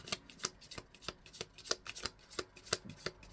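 Quick crisp riffling bursts of small tarot cards being shuffled, a rapid irregular series of papery flicks, close and fairly quiet, with no voices.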